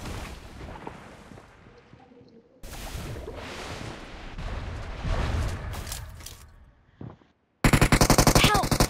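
Video game gunfire, with loud bursts of rapid shots and booming blasts amid shifting game noise, cutting out to near silence before a harsh burst at the end.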